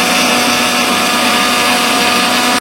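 A kitchen mixer grinder runs at full power, blending apple pieces with water in its jar, a loud, steady whirring roar that lasts the whole moment and cuts off abruptly at the end.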